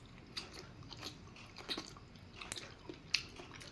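Bites and chews on crunchy half-cooked boiled sweet potato stems, a few close crisp crunches spread unevenly over quiet low background noise.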